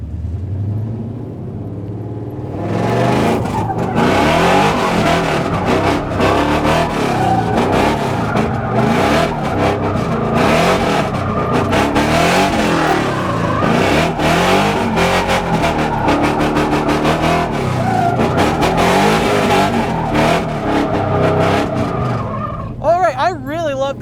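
A 1990 Ford Mustang is driven hard, its engine revving loudly and continuously with rising and falling pitch and brief tyre squeals. The roar stays dense and close throughout before dropping off sharply at the end.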